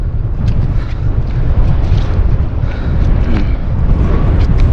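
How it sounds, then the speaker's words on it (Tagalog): Strong wind at sea buffets the microphone in a loud, continuous low rumble, with faint water sounds beneath it. "Tapos medyo lumakas na po yung hangin."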